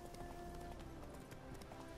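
Horse hooves clip-clopping on a road in The Witcher 3: Wild Hunt, a steady quick trotting rhythm heard faintly beneath constant ambient game sound and music.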